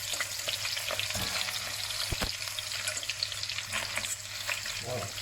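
Veal pieces searing in a pan, a steady close sizzle and crackle with a few sharp pops, no talk.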